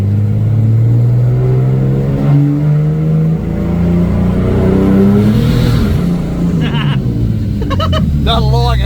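A turbocharged car engine with a new bottom end roars steadily on a dyno at low throttle, its loud droning note rising and falling, with voices briefly audible toward the end.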